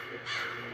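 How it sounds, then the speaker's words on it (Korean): A single crow gives one short, harsh caw. It sounds faint and a little distant, with no other sound around it. "까마귀 우는 소리가 들렸어요."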